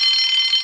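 A short, steady high-pitched electronic alarm tone rings alone for under a second.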